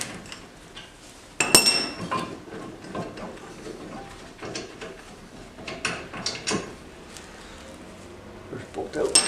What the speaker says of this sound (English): 1/2 inch ratchet. Get in there, loosen those bolts off.